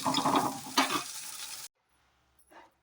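Okra and green chillies roasting in oil in a pan, a dense close sizzle with stirring scrapes that cuts off abruptly, followed by near silence and one faint brief stir.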